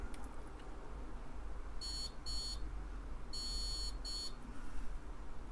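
A multimeter continuity tester checking pins on small surface-mount parts of an IMSAI 8080 replica board, sounding four short, thin electronic beeps in two pairs, close and clear over a quiet background hiss.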